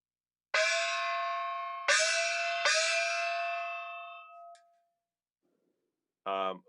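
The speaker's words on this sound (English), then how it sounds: "But I'm hitting that pretty hard, you guys. So yeah, so Chinese opera gong." A Chinese opera gong is struck hard three times in quick succession, each hit ringing bright and loud, then a softer tap and a final short rattling strike after a pause.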